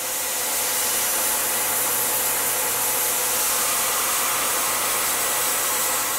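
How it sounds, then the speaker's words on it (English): A CNC machine chamfers with a 3/8-inch four-flute Lakeshore Carbide spiral flute chamfer mill at up to 7,500 RPM, giving a steady, loud, broadband whir and hiss that stays constant throughout. "Then chamfering with the 3/8 4 flute Lakeshore Carbide Spiral Flute Chamfer Mill."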